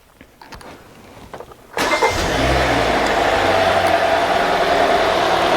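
A Hyundai Sonata engine with a rough-running fault cranks briefly and catches, then settles into a steady, loud idle after some quiet handling noises, with no one speaking.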